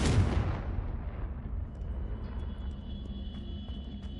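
A Confringo fire spell in Hogwarts Legacy bursts with a loud, booming explosion at the start, then rolls off into a long, fading rumble with a faint thin tone lingering.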